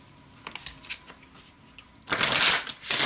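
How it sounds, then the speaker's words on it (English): Tarot cards are handled with soft scattered ticks at first, then shuffled in two quick, close riffling bursts, crisp and papery, with no talk. "Okay, one more shuffle."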